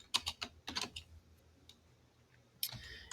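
Bursts of typing on a computer keyboard, clusters of quick clicky keystrokes with short pauses between them, close and fairly quiet, no talking.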